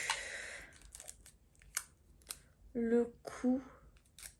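Adhesive tape is torn and cut during a makeup session, giving short crackling rips and snips that come in quick bursts between stretches of someone talking.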